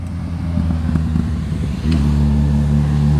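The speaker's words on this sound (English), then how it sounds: "Sounds like a motorcycle." A motorcycle engine drones steadily nearby, its low rumble rising and growing louder partway through as it passes close.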